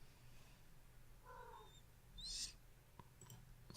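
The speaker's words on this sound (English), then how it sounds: "My cat says hello." A pet cat gives a short, faint meow followed by a brief chirp-like call, heard alone in a quiet room with low background hiss.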